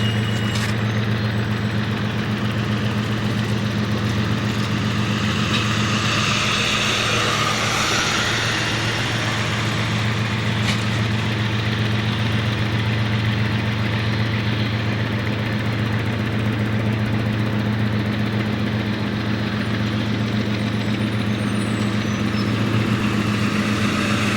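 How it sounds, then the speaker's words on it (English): A single freight locomotive hauling international and domestic containers slowly up a Pennsylvania mountain grade, its diesel engine a loud, steady low rumble and drone heard close for the whole stretch. "a single engine slowly comes to the crest of the mountain, hauling international and domestic containers to eastern markets"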